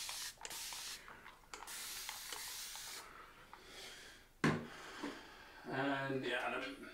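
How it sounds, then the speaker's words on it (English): A spray bottle mists water onto a face during a straight razor shave, several faint hissing squirts in quick succession, followed by brief rustling and soft close sounds. "Spray some water."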